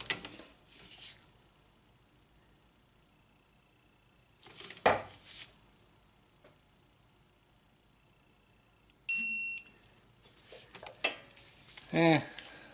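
Torque wrench drawing a front strut bolt on a 2000 Honda Civic up to 32 foot-pounds: scattered bursts of ratcheting and metallic clatter, a short steady electronic beep partway through, then a few more sharp mechanical clicks at close range.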